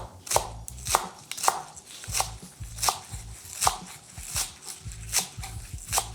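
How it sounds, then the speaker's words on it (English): Chives chopped roughly by hand with a knife: about ten crisp, evenly spaced chops over six seconds, close and fairly loud, with no talking. "I'm gonna give my chive a rough chop"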